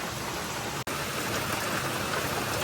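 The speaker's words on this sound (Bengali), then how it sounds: "আজকে সারাদিনে যে বৃষ্টি পড়ছে" Monsoon rain falls steadily over a village, a dense, even hiss that continues throughout with one brief dropout near the start and no voices.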